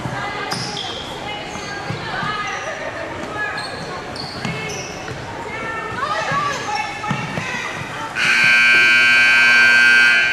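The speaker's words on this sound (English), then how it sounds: "Shot at the buzzer doesn't go for Raina Pelkak" Loud buzzer ending the half at a girls' high school basketball game, a sustained electronic blare cutting in near the end after sneaker squeaks, ball bounces and crowd noise.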